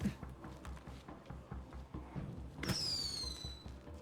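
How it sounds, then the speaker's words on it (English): Fireworks going off in the zombie survival game State of Decay: soft, muffled thumps and pops at a distance, then a sharp crack followed by a bright whistling tone that slowly falls. "So I'm going to hide in here while those fireworks go off"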